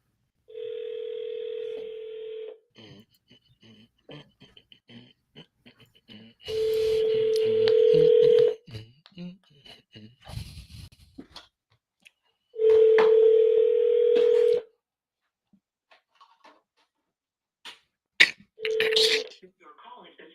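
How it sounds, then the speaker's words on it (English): Telephone tones on a sales call line: a steady dial tone in three long bursts with short dialing beeps between them and a brief final tone, clear and close, with faint voices in the background. "All right, Ryan, you make the next dial and I'll log out, log back in."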